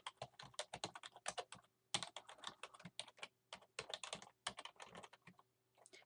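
Steady typing on a computer keyboard while entering a password to log in, with rapid close clicks in bursts separated by short pauses and no talking.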